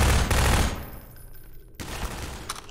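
Gunfire in Half-Life 2 comes as a loud close burst of rapid shots, then a quieter lull and more scattered noisy impacts, with no talking.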